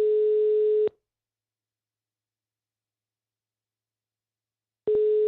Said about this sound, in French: On réessaye d'avoir Rida, mais c'est difficile.